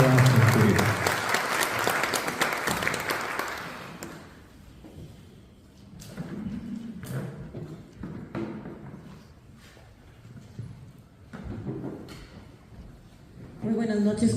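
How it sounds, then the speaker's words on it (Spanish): Loud audience applause for a speaker at a Córdoba Philharmonic lecture hall, dense clapping for about four seconds, then fading into scattered claps and a talking voice, with bursts of clapping returning near the end. "Lo recibimos con fuertes aplausos en la Filarmónica Córdoba Centurión."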